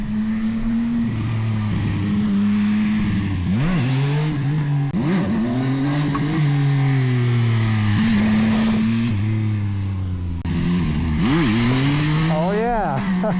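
Motorcycle engine revving and pulling in first gear with traction control at level 2, a steady loud drone rising and falling in pitch through several throttle blips, close to the rider.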